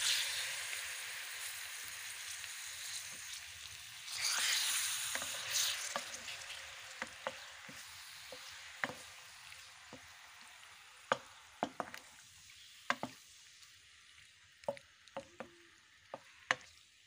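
Chicken liver frying in oil with garlic and ginger, giving a steady soft sizzle with a surge after the liver goes in, then scattered sharp pops and utensil clicks as it cooks, close and fairly quiet.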